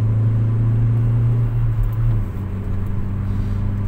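Hyundai Getz engine running in fifth gear, a steady low hum and rumble heard from inside the cabin that drops slightly partway through, with no talking.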